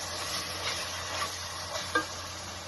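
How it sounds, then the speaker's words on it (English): Chicken pieces sautéing in hot oil in a pan for chicken alfredo, a steady close crackling sizzle with a few sharper pops and spits, no voices. "You hear that lovely sizzle? It means we can pour our chicken in there."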